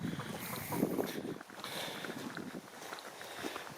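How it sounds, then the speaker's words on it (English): Outdoor wind buffets the microphone in gusty low rumbles and broadband rushing, loud and uneven across the whole stretch, with no talking. "Now the wind will probably be blowing this right out, the sound"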